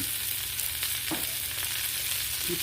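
Chicken drumettes frying in oil on a Blackstone griddle, a close, continuous sizzle with scattered pops and crackles and a few light scraping clicks, no talking.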